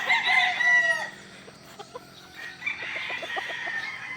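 Tethered early-bird gamefowl roosters on a game farm: one crows loudly at first, then others cluck and crow farther off in a steady chorus of farmyard calls.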